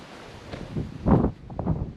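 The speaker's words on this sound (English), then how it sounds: "The cool ocean breeze." A cool ocean breeze and waves on the northern coast of Spain along the Camino del Norte: a steady wind rumble with soft surges of surf swelling and fading at moderate loudness, no voices.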